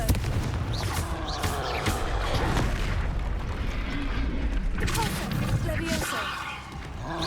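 Confringo blasting-spell explosions in the video game Hogwarts Legacy, repeated booming blasts layered over combat noise with a voice talking throughout.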